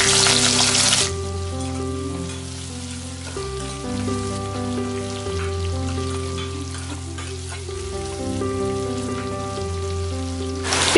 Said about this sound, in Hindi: प्याज 2 मिनट फ्राई हो चुका है